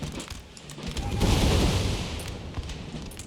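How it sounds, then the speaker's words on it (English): Grenades exploding during a battle in the Empire: Total War video game, a rumbling swell of blasts and crackling gunfire that builds to a loud peak and then eases off. "Throw your grenades, men."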